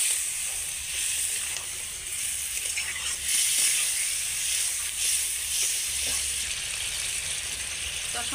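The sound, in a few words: sautéing chopped tomato with spices in a pan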